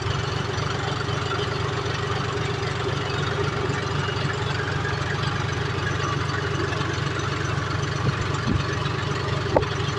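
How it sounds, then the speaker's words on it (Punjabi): Several tractors sowing wheat together in one field idle and run steadily nearby, a continuous low rumbling drone with faint knocking and no pauses. "ਟਰੈਕਟਰ ਚੱਲ ਰਹੇ ਆ ਘੇਰੇ ਮਾ ਇੰਨੇ ਇਕੱਠੇ ਲਾਏ ਵੇ ਆ"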